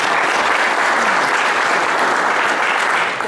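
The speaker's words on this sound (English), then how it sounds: "Lynn Freeman, would you please stand up and give a round of applause?" A crowd at a speech contest gives a sustained round of applause for judge Lynn Freeman, a thick, even roar of many hands clapping at a steady level throughout.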